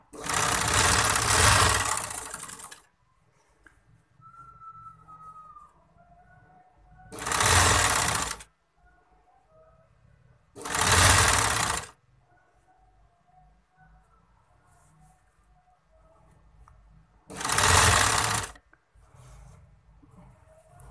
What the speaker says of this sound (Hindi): जो हमने बाजू की सिलाई लगाई थी